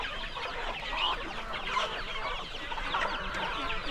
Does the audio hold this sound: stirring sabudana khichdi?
no